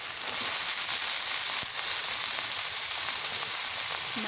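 Small river prawns hit a hot pan already holding onion, garlic and coriander paste with salt and turmeric, and they sizzle in a steady, close frying hiss. The hiss holds at an even level for the whole stretch, and no one speaks.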